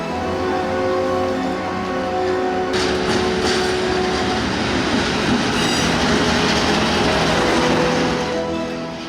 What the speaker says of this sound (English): The next day, I took the Trans-Alpine train from Greymouth back to Christchurch